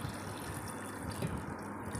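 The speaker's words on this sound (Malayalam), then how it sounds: "ഇനി നമുക്ക് വെള്ളം ഒഴിക്കാം കേട്ടോ." Water pours steadily into a mixer jar holding grapes, a close, continuous splashing fill that runs the full two seconds with no talking.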